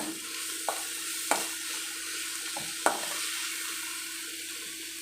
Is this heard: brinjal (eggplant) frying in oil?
yes